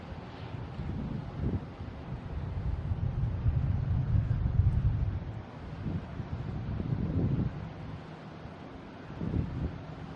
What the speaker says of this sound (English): Some wind gusts, so that's what they've been talking about.